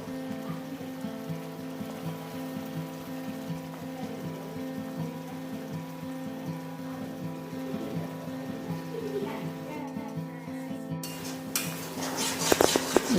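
Lote fish added to a pan with turmeric and chilli cooks with a low, steady sizzle under a faint hum, with a few clinks of utensil against the pan toward the end.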